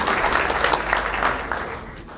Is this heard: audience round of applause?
yes